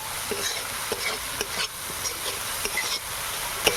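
Masala for a snail meat curry sautéing in a pan, a continuous close sizzle with regular spoon strokes scraping and tapping through it, moderately quiet and without talk.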